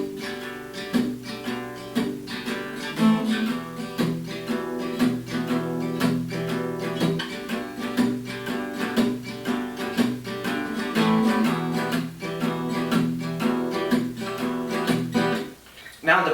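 Acoustic guitar strumming the verse chords of a song in a steady rhythmic pattern, each chord attack clear and evenly spaced, played solo at a moderate level.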